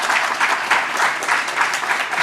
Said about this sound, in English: Let's give Hillary a round of applause.